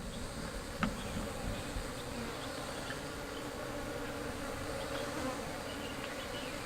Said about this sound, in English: Can you guys hear that? It's a wild beehive.